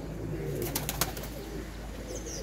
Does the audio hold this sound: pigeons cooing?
yes